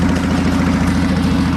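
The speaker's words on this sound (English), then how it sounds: "that's a 720cc engine, 38 something horsepower" Ridley automatic motorcycle with a 720cc engine running steadily at idle, a close, loud, even low rumble with a regular pulsing throb and no voices.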